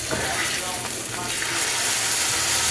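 A big, thick pork chop flipped in a hot pan, giving a brief dense sizzle that stays loud and close for a couple of seconds.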